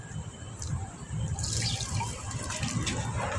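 Galunggong fish being rinsed under a running tap, with a continuous close splash of water and some dripping throughout, and no voices.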